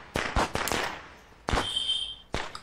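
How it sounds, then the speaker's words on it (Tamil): Firecrackers burst in a Diwali neighbourhood: three sharp cracks in quick succession, then another loud bang trailing into a whistling crackle, and a final pop, each sharp and fairly close. "பக்கத்து தண்ணித்த பட்டாசு வெடிக்க ஆரம்பிச்சிட்டா"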